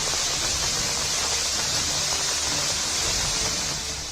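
Heavy rain pours over Shimla, with water running through the streets, making a steady, dense, close hiss-roar that holds unbroken throughout and eases slightly at the end, with no voices.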